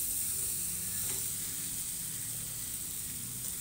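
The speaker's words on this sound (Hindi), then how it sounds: "अब डालूंगी मैं एक टमाटर इसमें, देखो इसको थोड़ा फ्राई करेंगे।" A tomato fries in a pan of hot oil in a home kitchen while a vegetable curry is cooked, giving a soft, steady sizzle and hiss throughout.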